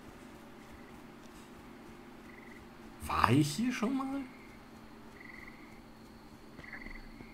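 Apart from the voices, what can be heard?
frogs croaking in the video game Miscreated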